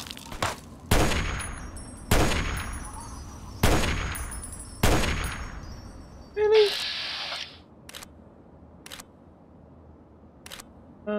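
Loud gunfire in Fallout, Tale of Two Wastelands, with five heavy evenly spaced shots echoing and decaying, followed by a brief metallic ring and a few fainter distant cracks.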